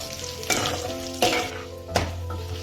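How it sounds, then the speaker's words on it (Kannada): Chana dal frying in oil in a pan, with a steady sizzle and three distinct scraping stirs of the spatula at regular intervals, close and fairly loud. "ಒಂದು ಸ್ವಲ್ಪ ಕೆಂಪಿಗೆ ಫ್ರೈ ಆಗಬೇಕು ಕಡಲೆಬೇಳೆ"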